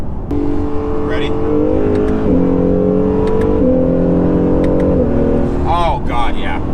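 Acura NSX pulling hard through the gears, its engine note climbing steadily then dropping sharply at each quick shift, about three clean shifts in a row, loud and close from inside the cabin, with brief voices near the end.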